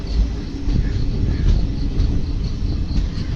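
Konkan Railway passenger train running through monsoon rain on the Thane to Rajapur route, giving a loud, steady rumble of wheels and carriage noise throughout, with no talking.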